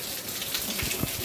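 Rain falls steadily outdoors during a monsoon downpour, a continuous broadband hiss with soft patters mixed in, fairly loud and close, with no voices.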